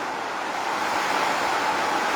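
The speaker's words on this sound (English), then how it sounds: "it's raining very hard" Heavy rain pours down in a dense, steady hiss of broadband noise with no breaks and no voices, loud and continuous throughout.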